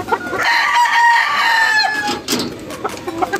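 Hens clucking and crowing nearby among a flock that has started laying eggs, a busy overlapping run of calls and clucks lasting a few seconds.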